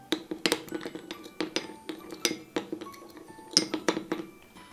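A lemon juice skin remedy is mixed in a bowl, giving a series of sharp clinks and taps of a utensil against the bowl at an uneven rhythm, close and fairly quiet.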